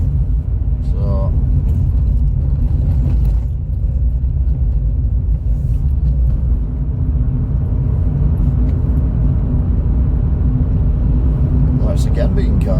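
Inside a car driving on UK roads, just topped up with about a litre of water: a steady, loud low engine and road rumble throughout, with occasional faint voice sounds over it.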